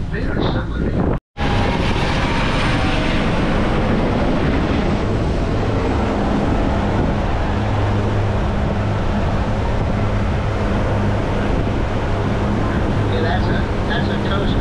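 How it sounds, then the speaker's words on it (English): A Coast Guard helicopter passing over a coastal waterway in South Carolina, a loud continuous rotor and engine roar filling the whole stretch, with a brief dropout near the start. "That's a Coast Guard helicopter."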